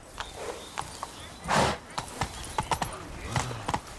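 Horse hooves clip-clopping in The Witcher video game, a steady run of close hoofbeats with a brief neigh or whoosh partway through, under game character dialogue.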